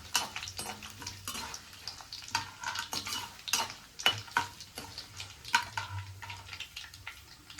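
A rice and raw mango mixture for mango pachadi frying in a pan, soft sizzling under repeated sharp scrapes and clinks of a metal spoon stirring against the pan.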